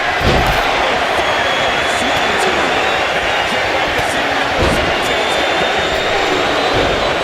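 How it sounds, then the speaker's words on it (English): Wrestling arena crowd noise from the WWE 2K25 video game, during a Royal Rumble match: a loud, continuous roar of cheering with faint sharp impacts scattered through it. "The crowd doesn't get any hotter than this."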